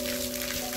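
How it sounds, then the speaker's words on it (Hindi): Rainwater runs and drips off a village rooftop during a heavy downpour in Gujranwala, Pakistan: a steady, close wash of water with a faint, constant hum beneath it and no pauses. "ऊपर वाले छत से जो है वो पानी टपक रहा है"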